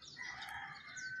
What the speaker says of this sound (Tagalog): Ay, yung manok